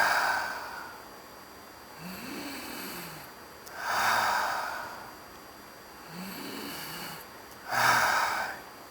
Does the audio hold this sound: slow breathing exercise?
yes